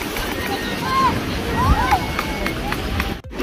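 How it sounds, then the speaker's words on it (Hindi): Ocean waves wash in at Karachi's Sea View beach, a broad rushing surf noise with wind buffeting the microphone, while children's excited voices and calls carry over the top. "ये देखो लहरें आ रही है।"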